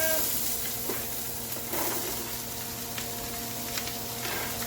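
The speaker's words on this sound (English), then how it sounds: "So basically what we're doing is sauteing." Chopped celery and carrots sautéing in a pan, a steady soft sizzle with faint stirring scrapes running evenly throughout, moderately quiet and close.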